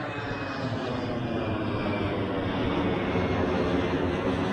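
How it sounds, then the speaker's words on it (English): An Azul Airbus A320 airliner takes off at Aracaju, Sergipe, its engines giving a loud, steady roar that swells slightly as it climbs, with no talking. "It's an Azul A320."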